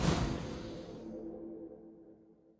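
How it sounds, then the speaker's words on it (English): Motorcycle racing sound from the MotoGP 17 video game teaser trailer: a loud, full burst right at the start that slowly fades and thins out over about two and a half seconds. "that is the sound of MotoGP 17"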